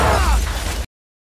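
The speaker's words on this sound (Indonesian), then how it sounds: "terjadilah sebuah ledakan dahsyat" A powerful explosion in an action movie scene, a loud, dense blast with crackling debris that rolls on for under a second and then cuts off abruptly.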